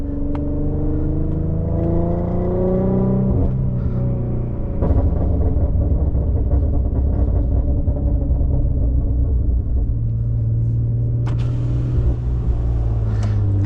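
A tuned 2015 Infiniti Q50 with the 3.7L engine and test pipes revs loudly from the driver's seat, its deep rumbling drone rising and falling in pitch through gentle throttle blips, then a sharper surge near the end.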